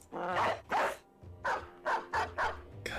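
A dog barks in the turn-based video game Battle Brothers, six loud close barks in an uneven rhythm with short pauses between.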